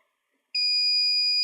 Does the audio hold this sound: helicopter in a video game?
no